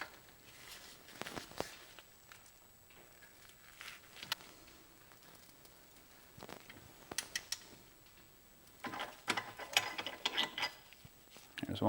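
Torx T55 brake caliper bolts are broken loose on a Porsche 911 991.1 during a brake job, with scattered ratcheting clicks, metallic clanks and tool handling against a quiet garage background.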